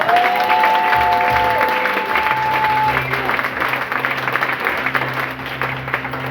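A church congregation claps and cheers in sustained applause, loud and steady throughout, with an organ or keyboard holding tones underneath.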